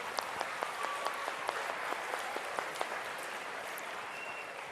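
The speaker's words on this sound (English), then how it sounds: "Big round of applause to you guys." An audience at a wealth seminar event in Salt Lake City claps for attendees standing up, a dense round of applause with a few sharper individual claps standing out.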